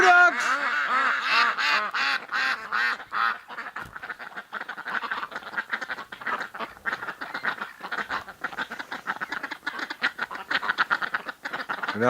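Ducks quack loudly outdoors in winter at first, then fade into a busier, noisier background of softer calls and movement, with a person talking over part of it.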